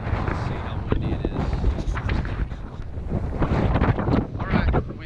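Strong wind gusting across the coastal clifftop by the old abbey at Whitby on the North Sea, buffeting the microphone with a steady loud roar throughout.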